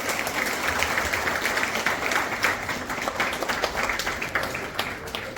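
Audience at a college parents' meeting and Vasant Panchami celebration claps warmly, a continuous loud round of applause filling the hall, with a few voices faintly mixed in.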